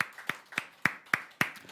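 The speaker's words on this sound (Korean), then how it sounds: "우리 주님께 박수로 경배하십시다." A church congregation claps in unison during worship, with six crisp, evenly spaced claps over a quiet background and no voices.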